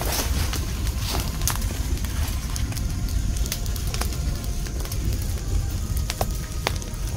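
A close fire burns with a steady roar, broken by sharp crackles and pops scattered across the stretch, and no voices over it.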